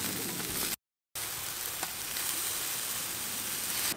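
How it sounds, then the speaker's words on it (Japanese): Meat beginning to cook on a German-style barbecue grill, a loud, continuous close sizzle and hiss with a brief cut in the middle and no talking. "あ、お肉も焼き始めた。"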